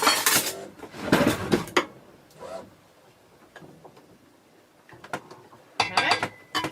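A scraper mixes mashed banana in a bowl, giving bursts of clattering, scraping strokes that come in irregular clusters with quiet gaps between.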